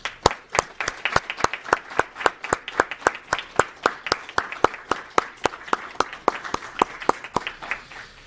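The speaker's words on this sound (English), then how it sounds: "give all of our recipients a large round of applause" At a Board of Education meeting honoring award recipients, one pair of hands claps nearby in a steady, evenly spaced rhythm, about three crisp claps per second, with nothing else heard.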